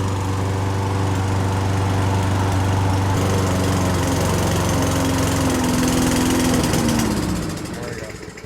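A lawn mower engine with carburetor and fuel problems runs loud and steady close by, its pitch holding then shifting slightly before the sound drops off near the end.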